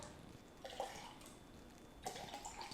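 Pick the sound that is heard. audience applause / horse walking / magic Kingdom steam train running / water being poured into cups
water being poured into cups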